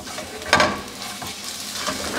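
Egg-white French toast cooking in a pan with tomato and onion gives a steady close sizzle, with a louder scrape and hiss as it is flipped and no talking.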